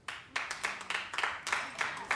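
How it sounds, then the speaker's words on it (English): A studio audience on a daytime talk show claps in uneven, overlapping bursts, a brisk patter of many hands that swells and recedes over a couple of seconds. "Clap if you care about reading it."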